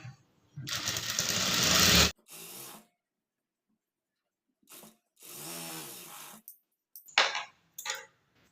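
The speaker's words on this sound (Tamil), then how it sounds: "அரை இன்ச் அளவுக்கு கீழே பட்டி மடித்து தைக்கிறதுக்காக தையல் போட்டுக்கலாம்" A sewing machine stitches a folded half-inch hem on a high-neck blouse in a loud, steady burst of about a second and a half, then two more bursts follow after short pauses, with some softer handling noise between.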